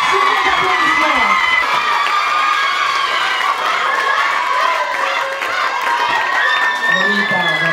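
A crowd cheering, whooping and shouting at a beauty pageant election in Réunion, loud and sustained with high excited voices and some applause mixed in.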